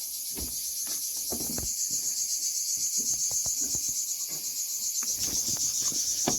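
Dense, steady buzzing of cicadas in Doyran village near Edremit, Turkey, fills the whole stretch, loud and continuous, with occasional soft knocks and rustles underneath.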